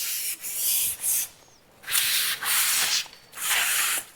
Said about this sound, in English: So we'll just get a coarse hand pad. We'll just give it a quick rub.